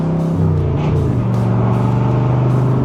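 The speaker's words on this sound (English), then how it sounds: "you just tip in the gas just a little bit and you can hear the side exit exhaust" A 1965 Chevrolet Corvette Roadster engine revs up with a deep, rising side exit exhaust note, loud and close, steady throughout with no talking.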